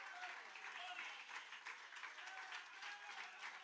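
A church congregation claps together for the Lord at a Spanish-language service, dense continuous applause at moderate level with voices mingled faintly underneath.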